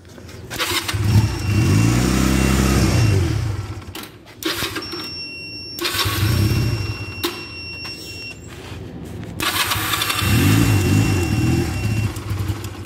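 A small engine cranks and catches, then runs roughly with bursts of revving that rise and fall, pausing briefly between starting attempts, loud and close with no talk.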